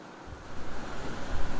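Steady broadband whooshing hum of a running machine blowing air, rising in level after a quieter start, close and continuous.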